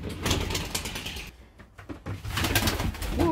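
Pigeons cooing around a house window, the low murmuring calls fairly close and steady, with brief scuffling and rustling noises mixed in and a short quieter gap partway through.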